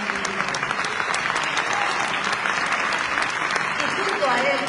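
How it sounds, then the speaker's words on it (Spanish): A concert audience at a copla and flamenco show applauds warmly, a thick, continuous wash of clapping with some voices mixed in, swelling slightly toward the end. "Un aplauso enorme"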